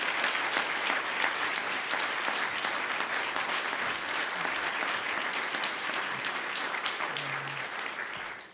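Audience at the 2014 U.S. Professor of the Year event giving sustained, even applause to welcome Sheri Sheppard to the stage, full and steady before fading at the close.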